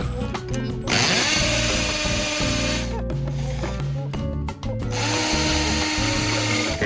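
A power drill whines steadily nearby, bit grinding into the wall to drill anchor holes for mounting a hose reel, with a brief pause and restart partway through; no talking.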